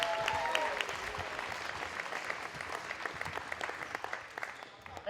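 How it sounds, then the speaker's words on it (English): A basketball crowd applauds steadily in a gym, a dense patter of clapping that is moderately distant and gradually fades toward the end. "a round of applause for Allison Hook"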